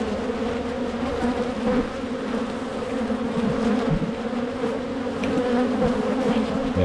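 Agitated honey bees swarm around an open hive, making a dense, continuous close-up buzz that holds steady with no talking.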